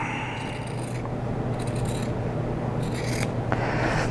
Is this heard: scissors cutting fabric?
yes